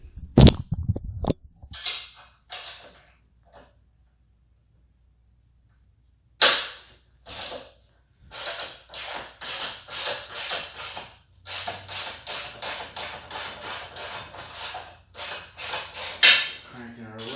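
A ratchet and hand tools work loose the rear wheel of a Honda Grom, sharp close clicks coming in rapid repeated bursts with a few pauses between.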